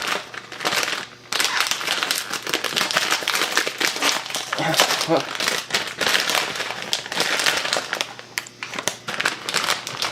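Big plastic bag of cheese ramen handled and crinkled close up, with dense continuous crackling and rustling throughout and a person talking over it.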